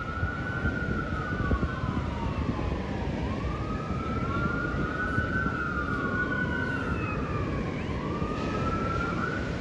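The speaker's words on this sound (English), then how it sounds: "there's sirens all over the place." Wailing sirens rise and fall continuously over steady road and crowd noise, several emergency vehicles including ambulance and fire sounding at once from a moderate distance during dangerous waves in Santa Barbara.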